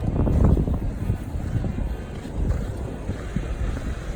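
Outdoors in Port Antonio, Jamaica, wind buffets an unshielded microphone, producing steady low rumbling and thumping gusts that stay fairly loud throughout.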